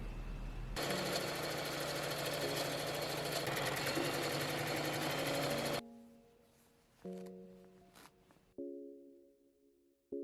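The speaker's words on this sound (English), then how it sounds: "thread my machine with my elastic thread, and then shear across those lines" A sewing machine shirs old shirt fabric with elastic thread, running loud and fast for about five seconds, then stopping and leaving a few short mechanical whirs and clicks.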